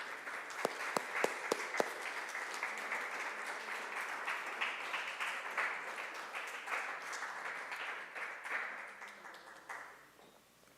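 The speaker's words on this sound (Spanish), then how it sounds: "¿Qué tal si le regalamos un aplauso a Él?" A church congregation applauds during a sermon, many hands clapping with a few sharp close claps at the start, the steady crowd clapping holding for several seconds before tapering off near the end.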